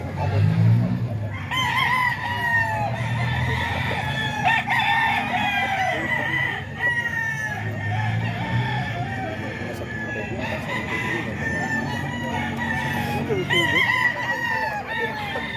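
Banded roosters at a farm in San Jose del Monte, Bulacan crow again and again, calls overlapping near and far, with clucking and occasional voices in the background.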